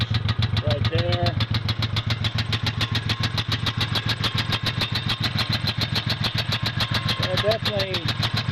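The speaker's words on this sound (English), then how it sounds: "It is running, but it does have noise, and hopefully it's got enough fuel to keep running for a little bit." A 1994 Geo Metro XFi engine runs steadily at idle with a rapid, loud, regular knocking from a suspected cracked piston or connecting rod, and brief voices cut in near the start and end.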